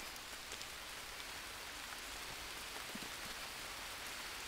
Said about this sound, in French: Mais il pleut dans la grotte.